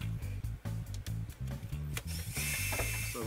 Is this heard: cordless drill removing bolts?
yes